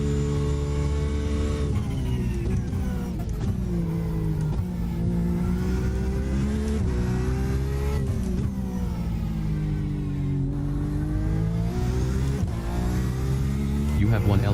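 Race car engine in a sim racing game: continuous loud revving with rising and falling tones throughout, as an LMP2 prototype closes in behind a Porsche 911 RSR GTE, with a voice talking over it.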